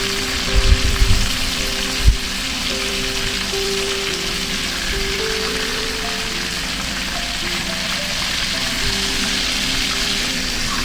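Marinated fish fries in hot oil with a loud, steady sizzle throughout, and a couple of dull knocks early on as the pieces are flipped in the pan.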